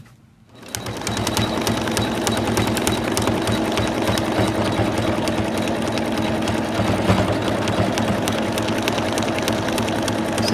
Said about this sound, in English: we're going to take the hoop back to the machine and we're going to stitch them together